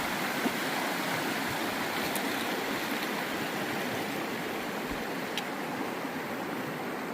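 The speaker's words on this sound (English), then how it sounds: "we've reached the Burn River. Julian's crossing now, it's not too deep, so easy crossing" The Burn River rushing steadily at a shallow hiking ford near the Takitimu Track, a dense, continuous close-up roar of flowing water with no voices.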